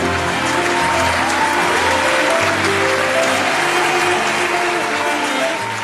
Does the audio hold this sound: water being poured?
no